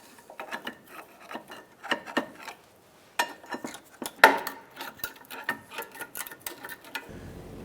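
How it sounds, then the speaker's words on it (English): Brake pads being pulled from the rear brakes of a 2004-2009 Dodge Durango, with light metallic scraping, taps and clinks in irregular bursts, close up and without talking. "Now we're going to remove the brake pads."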